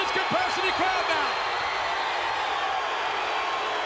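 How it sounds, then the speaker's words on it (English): A packed wrestling arena crowd at the Royal Rumble gives a loud, sustained roar of mixed cheers and boos, with a steady wash of voices throughout and a few sharp calls near the start. "Some are cheering. Some are booing."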